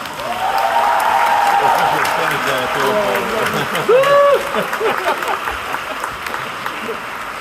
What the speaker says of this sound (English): I invite the graduates to applaud their professors for all the help that they have given